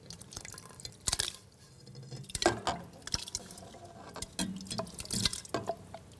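Diced tomatoes glop and splash into a pot of soup in a series of wet plops and drips, irregular bursts rising and falling, with no talk.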